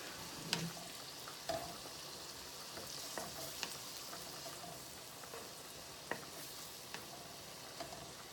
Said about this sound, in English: Give a good stir to my noodles.